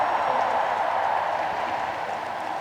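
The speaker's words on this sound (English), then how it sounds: "Please give a big round of applause." Applause from an audience at the 2019 World Peace Summit in Korea, a steady, dense wash of clapping that holds loud and even throughout, with no voices over it.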